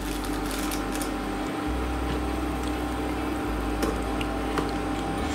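Rice tipped into a pot of boiling water on a home stove, with a steady low bubbling rumble and soft liquid churning throughout, and no talking.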